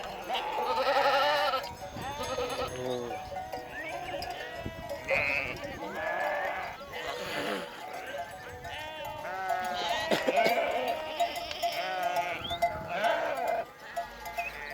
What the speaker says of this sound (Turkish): Koyunlar gidiyor.